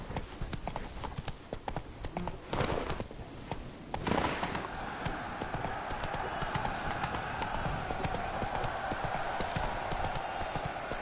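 Horse hooves clip-clop steadily in The Witcher video game, a brisk run of even hoofbeats with a sustained ambient tone rising behind them partway through.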